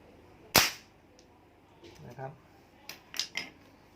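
A slingshot fires with one sharp, loud snap up close, followed by a few lighter clacks and knocks as the shot lands or the frame is handled.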